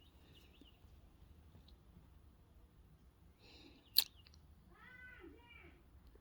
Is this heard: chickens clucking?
no